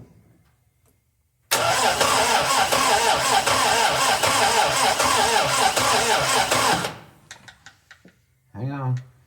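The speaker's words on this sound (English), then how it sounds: "Now push the starter." A 1961 Triumph TR3A fitted with a high-torque starter cranks hard and steadily for about five seconds in a loud, rhythmic churn, then stops abruptly, followed by a few faint clicks and a brief voice.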